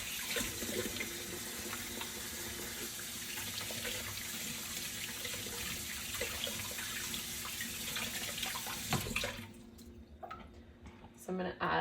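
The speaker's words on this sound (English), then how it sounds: "once I wash my hands here real quick" Hands are washed under a running kitchen sink tap, a steady close splash of water that stops near the end, with faint speech in the background.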